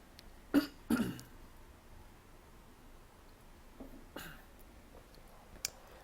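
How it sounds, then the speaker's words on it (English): A couple of short, sharp throat-clearing bursts close by, followed by quieter clicks and a faint rasp in an otherwise quiet room. "Let me clear my throat first."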